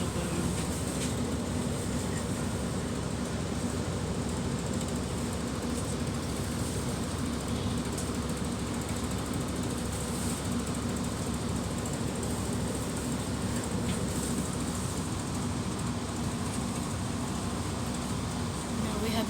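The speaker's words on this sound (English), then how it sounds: "this is the main interior of London Marylebone" Inside the main concourse of London Marylebone, a Chiltern Railways station: a constant low hum and rumble of idling trains and ventilation fills the hall, steady and even throughout, with no speech.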